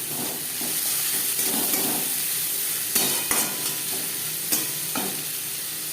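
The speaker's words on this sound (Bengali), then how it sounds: "এখানে আমি 3টে পেঁয়াজ কুচি করে অ্যাড করলাম।" Chopped onions, three of them, fry in oil in a pan for chitol fish tel jhal. They give a steady close-up sizzle broken by occasional scraping stirs and light clinks, and there is no speech.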